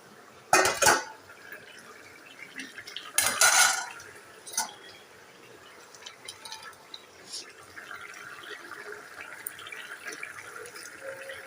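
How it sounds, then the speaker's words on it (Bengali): Curry being stirred and turned in a cooking pan, two loud scraping clatters of a metal spoon against the pan followed by softer knocks and a steady sizzle, with a person talking over it. "তরকারিটা একটু উল্টায় পাল্টায় নেড়ে দিও আর এর সঙ্গে মাছগুলো দিয়ে দিই"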